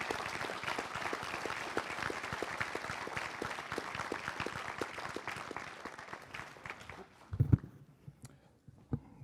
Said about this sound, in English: Ladies and gentlemen, would you join me in acknowledging and applauding both candidates?